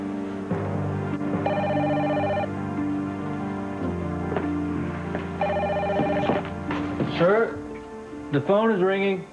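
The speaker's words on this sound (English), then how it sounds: "The phone is ringing." A telephone rings in repeated bursts, a bright electronic trill with pauses between rings, while voices talk over and between them.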